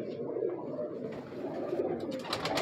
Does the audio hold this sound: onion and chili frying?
no